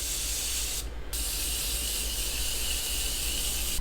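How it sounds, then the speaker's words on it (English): A spray can hisses in one steady, continuous burst that stops briefly near the start, then resumes at close range and carries on alone. "We're gonna spray."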